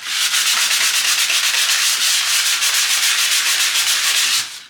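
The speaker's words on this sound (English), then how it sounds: "Sand this, give it a quick paint." Furniture being sanded by hand, a steady, close, rhythmic rasp of repeated strokes, loud and continuous, with no talking.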